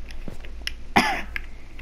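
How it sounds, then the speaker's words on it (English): A single short cough, near and fairly loud, breaks a quiet background during a survival video game session. "I just love to cough."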